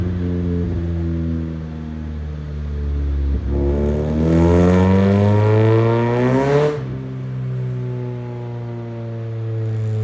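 Toyota AE86 with a Beams engine revving on a dyno, idling with a steady drone, then climbing sharply in pitch through a loud pull before dropping back to idle, no voices.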